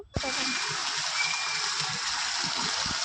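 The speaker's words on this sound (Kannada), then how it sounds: "ಅಷ್ಟು ನೀರು ಮಳೆ ಬೀಳ್ತಾ ಇದೆ ಜೋರಾಗಿ" Heavy rain pours down beside a shop while floodwater rushes and streams past, a loud, steady, close wash of water that starts abruptly and holds without a break.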